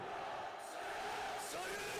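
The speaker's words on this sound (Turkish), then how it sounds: "Tezahüratlar da devam ediyor ha." Stadium crowd chanting in the football video game PES 2013, a continuous distant roar of massed voices with rising chant swells, steady and moderately faint.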